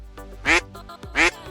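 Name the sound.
duck quacking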